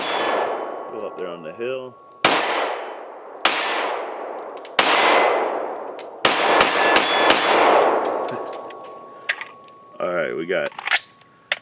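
Several sharp pistol shots from an FN Five-seveN, spaced a second or two apart, each followed by a ringing metallic clang off a steel silhouette target, with a quicker string near the end and brief talk between shots.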